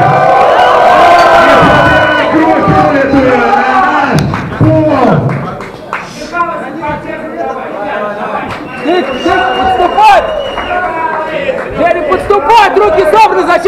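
A crowd shouts and cheers loudly throughout a fight between Simonov and Panteleykin, with a prominent voice talking over the noise and the roar easing slightly midway before surging again.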